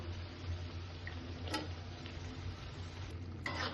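Fish and cubed potatoes frying in a pan while being stirred, a steady low sizzle with a few light scraping clinks of the utensil against the pan.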